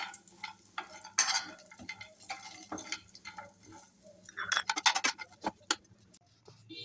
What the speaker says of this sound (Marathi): बेदाणे, छान तुपात परतून घेणे एकसारखं असं.